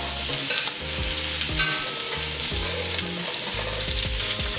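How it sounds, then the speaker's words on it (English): Paneer pan-frying with spices for North Indian mattar paneer, a steady close sizzle and frying hiss under repeated stirring scrapes in a rhythmic pattern, with no talk. "Just give it a pan fry right here,"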